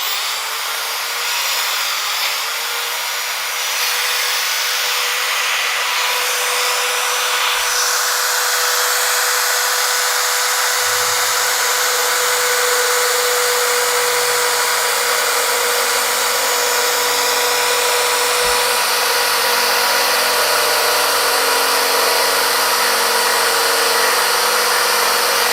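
A Bosch GSB 10 RE 500-watt corded electric drill locked on and running continuously, a loud, steady high-pitched motor whine that holds constant throughout with a slight low hum underneath, no talk.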